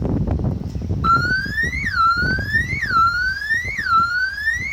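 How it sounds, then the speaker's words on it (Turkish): A loud security alarm siren, triggered by a door opening, wails in repeated rising sweeps, each cycling about once a second, starting abruptly after a moment of background noise. "Gördüğünüz gibi alarm çalıyor."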